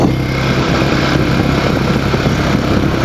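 A 2018 Royal Enfield Himalayan single-cylinder motorcycle engine works hard while riding, giving a loud, close, steady drone with a constant low throb and no talking.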